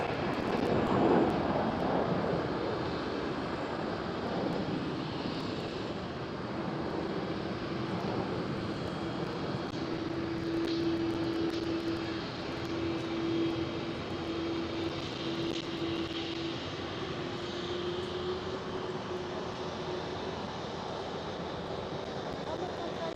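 A Delta Airlines A330 jet takes off at Amsterdam Schiphol, its broad engine roar sustained and fairly distant with a steady tonal whine, wind buffeting the microphone.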